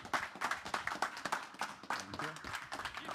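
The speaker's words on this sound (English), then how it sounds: "Another round of applause." Conference audience applauding at a stage, a dense burst of many hands clapping fairly faintly and steadily for a few seconds, with a voice briefly heard near the end.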